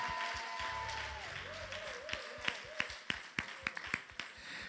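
An audience claps at a Palm Sunday church celebration service, with scattered sharp claps that build up in the second half over a sustained musical tone and a low background hum.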